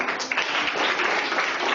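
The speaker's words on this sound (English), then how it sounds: "Very good. You are clapping." Children clapping together in a classroom, a steady dense patter of many small hands lasting just under two seconds, close and fairly loud with no talking.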